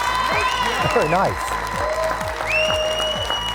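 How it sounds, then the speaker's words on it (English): Studio audience applauding the winning team of a televised high school quiz show, a steady wash of clapping under a voice speaking over it, with brief music-like tones in the background. "The crowd goes wild."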